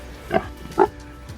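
A pig on a country farm kept alongside young goats gives two short grunting oinks, close by, with a faint third sound after a pause.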